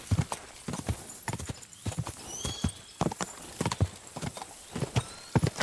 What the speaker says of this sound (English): That looks like an expensive horse.